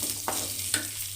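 Garlic, green chilli and small onions sauté in a hot pan, a steady close sizzle broken by a couple of brief stirring scrapes, with no talking.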